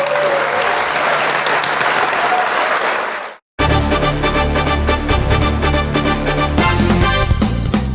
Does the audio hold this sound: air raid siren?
no